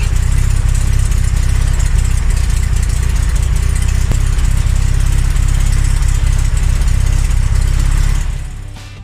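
An old Fiat car engine idles roughly with a lumpy, uneven beat, loud and close in the engine bay, a steady low throbbing rumble that holds for several seconds before fading away at the end.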